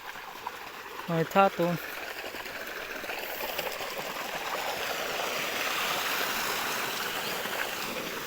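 Water gushing from a farm tank into a mustard field, a steady broadband rush that grows slightly louder toward the end, with a brief burst of speech early on.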